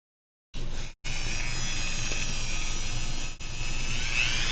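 Dremel rotary tool spinning at 15,000 RPM, cutting through a gate; a loud, steady high-pitched whine starts abruptly after a brief silence, cuts out for an instant, then resumes and holds, dipping once near the end.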